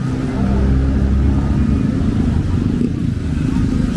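A motorbike being ridden gives off a steady, close engine drone that holds at an even loudness throughout, with a low rumbling tone and no clear gear changes.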